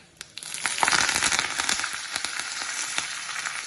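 Asafoetida (hing), curry leaves and red chilli hitting hot oil for a tempering to pour over curd rice, bursting into a loud crackling sizzle with sharp pops that stays busy and close, no talk.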